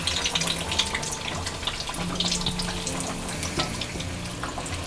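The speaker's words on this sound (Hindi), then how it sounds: "अब हम कटलेट को अच्छा क्रिस्पी और गोल्डन ब्राउन होने तक फ्राई करेंगे।" Vegetable cutlets shallow-frying over medium heat until crispy and golden brown give a steady, dense sizzle that runs unbroken throughout, with faint low hum in the background.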